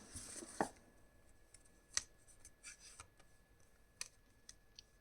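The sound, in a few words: tarot cards being shuffled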